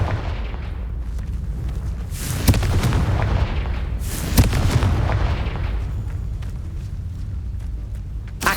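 Booming Confringo blast spell explosions in the video game Hogwarts Legacy, several heavy bursts spaced a couple of seconds apart over a dense, rumbling battle background, loud, with no talking.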